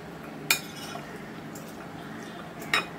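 A spoon gently stirring chopped fruit in a bowl for a mixed fruit custard, with two sharp metallic clinks against the bowl a couple of seconds apart over a soft, quiet background.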